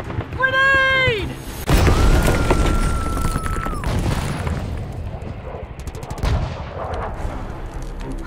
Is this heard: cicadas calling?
no